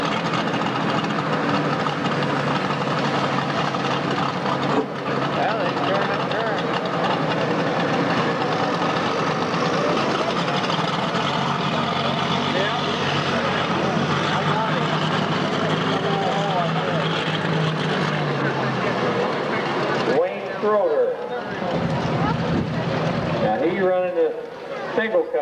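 Pulling tractors with tall gears and high horsepower roar at a New Year's tractor pull in Macon, Missouri, a loud, sustained engine drone that drops away near the end, with an announcer talking over it.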